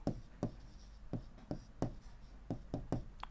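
Pen or pencil writing numbers by hand in a notebook, a series of short scratchy strokes at an uneven pace, quiet and close, with no voice.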